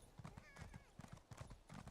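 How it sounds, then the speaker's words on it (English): Horse hooves clip-clop in a steady, quick rhythm as a mount is ridden in Elder Scrolls Online, with a brief whinny partway through and a person talking over the game sounds. "Riding on my horse."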